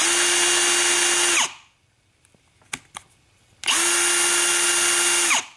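A power drill whirs at high speed, about 1300 RPM, in two long bursts, with a quiet gap of a few small clicks and taps between them, during a Wayne Dalton TorqueMaster One garage door spring replacement.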